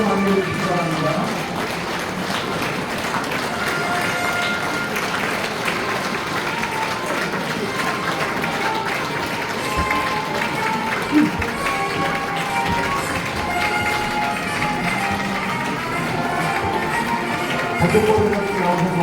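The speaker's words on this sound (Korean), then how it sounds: "일어나서 박수로 맞이해 주시기 바랍니다" A standing congregation applauds at a Korean church assembly's opening worship service as worship committee members enter. Sustained clapping runs throughout under other hall sounds and faint music, with no clear speech.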